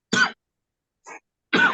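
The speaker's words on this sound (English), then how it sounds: "I apologize if I cough my way through this." Two sharp coughs bracket a brief, softer throat clearing, spaced out with silence between them, close and isolated.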